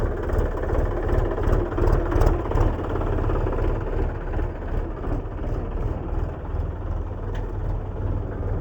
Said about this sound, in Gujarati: આપણે બેસી ગયા છે ટ્રેક્ટર ઉપર અને ટ્રેક્ટર થઈ ગયું છે ચાલુ